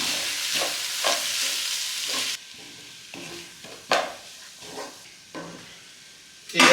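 Poha (avalakki) being stirred in a pan with lemon juice, a continuous sizzle broken by repeated scraping strokes of a spoon, several louder scrapes standing out.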